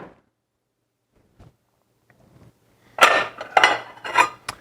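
Plates and dishes clatter close by in a few distinct bursts of clinking and scraping, after a mostly quiet stretch with faint knocks.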